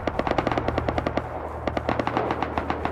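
Rapid automatic gunfire from an MP5 or AK in a survival shooter game, dense bursts of sharp shots firing in quick rhythm for several seconds, loud and close with no talk.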